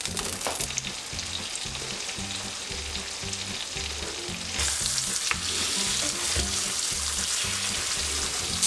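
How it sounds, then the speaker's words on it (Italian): Floured veal scaloppine fry in a pan with a steady, dense sizzle and crackle that runs throughout and grows slightly louder partway through; no one speaks. "Una volta rosolate le scaloppine, se non ci stanno tutte nella padella, le mettiamo da parte, le friggiamo tutte"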